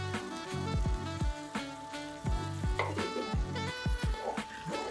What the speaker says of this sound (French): On remue pour pas que ça attache jusqu'à évaporation